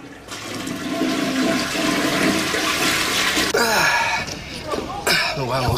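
A toilet flushes with a loud, sustained rush and gurgle of water lasting several seconds, close by in a bathroom, followed by a sharp draining swirl, with a voice briefly speaking over it.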